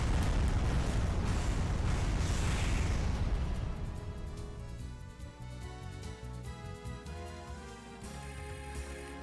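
Missiles fired at a boss in Wild ARMS 3, a loud rumbling blast with crackling bursts at the start that fades into softer game music and effects.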